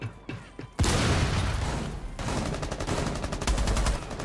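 Rapid bursts of gunfire ring out in a video game shootout in a favela setting, loud and dense after a few faint early pops, with continuous automatic fire rattling through the rest.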